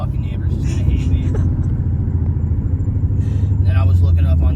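2025 Ford Mustang 5.0 V8 with a Roush exhaust, a loud deep burbling rumble while driving, with a voice talking over it.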